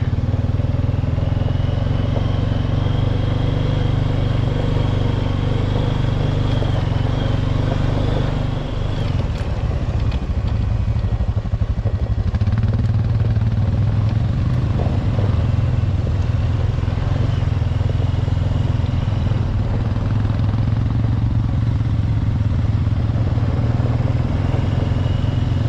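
A motorbike engine on a dusty high mountain trail in Idaho, a loud steady drone that shifts slightly in pitch as it rides, with rattling and clatter over the constant rumble and no talk.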